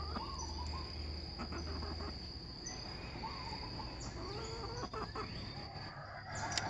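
A large hen clucking softly nearby outdoors, with intermittent low calls over a constant bed of insect and bird sounds.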